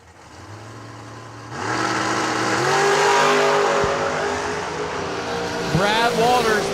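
A 1987 Corvette drag car launches at a drag strip race, its engine jumping to a loud, sustained roar that holds steady to the end while an announcer talks over it.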